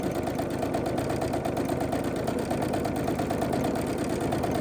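Sewing machine running steadily while stitching a thread-painted pumpkin, a fast continuous mechanical whir with rapid needle ticking, close and even throughout.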